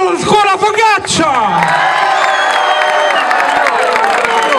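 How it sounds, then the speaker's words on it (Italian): Audience applause and cheering for a school at an event with a DJ guest, a voice speaking at first before clapping and crowd noise swell and hold steady, loud and close throughout. "Facciamo un applauso alla scuola Focaccia!"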